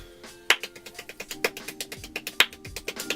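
Very fast hand clapping with palms moving in parallel so each stroke makes a double clap, a rapid run of sharp, close claps in a steady rhythm with a few louder accents.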